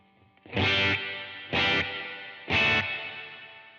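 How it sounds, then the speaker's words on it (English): Three strummed, distorted electric guitar chords through a plate reverb ring out about a second apart, each leaving a smooth, shimmering reverb tail. "So my first setting is a plate reverb."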